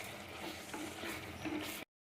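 Chicken masala being stirred in a clay pot after half a spoon of garam masala and a squeeze of lemon, a steady close scraping and soft sizzle with a few spoon knocks, no talking.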